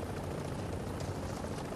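Extraction helicopter in The Division during a PvP match, a steady low rotor and engine drone that fills the short stretch at an even level, with no voices over it.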